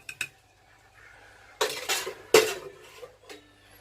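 Homemade roasted potatoes tipped into a pan during a full English breakfast, producing a few loud clattering knocks and scrapes of metal utensils against the pan between quiet gaps.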